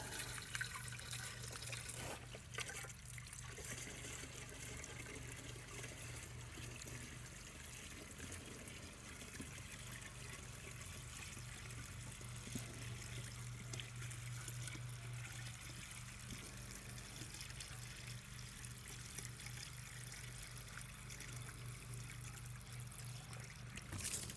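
Regular tap water runs into a tank, a faint, continuous trickle and splash that stays steady and quiet from start to finish.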